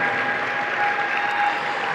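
Audience applause welcoming the judges at a FIN state championship event, a steady dense wash of clapping from a large crowd lasting throughout, loud and continuous with no talk over it.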